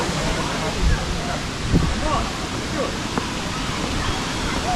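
A large waterfall in the Western Ghats jungle of Karnataka, India, roars as a steady broadband wash of falling water, near and constant, with crowd chatter and voices from a busy spot popular with locals mixed in.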